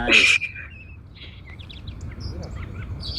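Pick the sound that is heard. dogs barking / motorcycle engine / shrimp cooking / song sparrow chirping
song sparrow chirping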